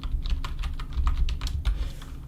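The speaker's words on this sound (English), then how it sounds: "hopefully the typing isn't too loud. The keyboard's next to the mic." Computer keyboard right beside the microphone, typed on in a quick irregular run of close, crisp key clicks over a low background hum.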